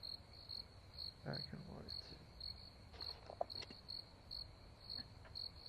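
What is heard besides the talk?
crickets chirping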